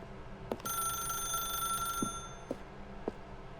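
A telephone rings in The Stanley Parable video game, its bell trilling in a sustained burst joined by several short separate rings, fairly clear against a quiet background.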